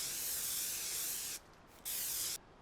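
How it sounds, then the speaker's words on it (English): A spray paint can hisses in the video game Farming Simulator 19 while marking trees for felling, giving two loud sustained bursts separated by a brief pause, close and alone. "we can go and we can spray paint trees"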